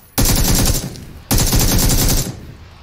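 Two loud bursts of rapid automatic gunfire from the PUBG video game, each lasting about a second, rattle close up with a short gap between them and no speech.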